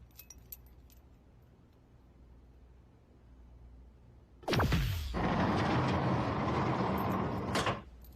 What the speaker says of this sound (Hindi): दरवाजा खुल गया